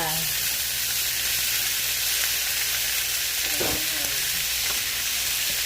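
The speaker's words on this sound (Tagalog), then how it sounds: "Nagisa ako ng pork, sibuyas, bawang, luya." Pork with onion, garlic and ginger sautéing in a hot pan gives a loud, steady, close sizzle and hiss that runs throughout, with a few brief scrapes of stirring.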